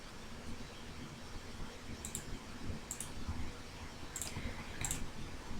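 A computer mouse clicks a formatting button in an Excel conditional-formatting dialog. There are four sharp, light clicks spread out over a steady background hiss, close to the microphone, with no talking.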